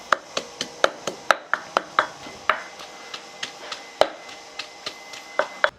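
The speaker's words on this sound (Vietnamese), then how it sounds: "Bây giờ Duy sẽ giã cái hỗn hợp này." Lemongrass and lime leaf mixture pounded in a mortar, a steady run of sharp, close thuds at roughly even pace, a few heavier strikes among them, with no talking.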